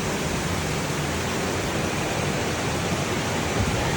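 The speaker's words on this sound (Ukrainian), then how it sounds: "Також є ще такий джакузі." Jacuzzi at a thermal bath complex in Egerszalók, Hungary, its warm water bubbling and churning as a loud, steady, broad rush that fills the space without pause.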